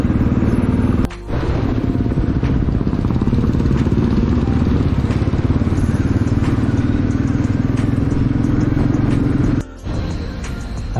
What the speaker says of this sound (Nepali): साथी भएपछि तिनवटा बाइकमा सरल र बिस्तारी गइन्छ